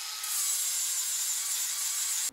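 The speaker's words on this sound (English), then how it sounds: "I'm just gonna grind flat anything that could be in our way, any welds that are a little bit proud, and anything that's sharp" An angle grinder dresses down raised welds and sharp edges on a Nissan D22 Navara truck frame during a solid axle swap, a steady, loud, high-pitched grinding that runs continuously for about two seconds and then cuts off abruptly.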